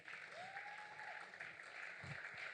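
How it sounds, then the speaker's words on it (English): Applause from an audience at a Nigerian national competition and 25th anniversary celebration, steady dense clapping throughout, with a faint whistle-like tone near the start. "A round of applause."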